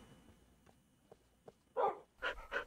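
Dogs barking in Minecraft, quiet soft thuds first, then one loud bark followed by two quick barks close by, with no talking.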